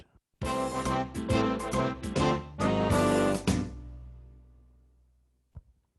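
A keyboard's swing rhythm pattern plays alone, with bouncy chords and bass over a steady beat for a few seconds before it decays into a lingering tail.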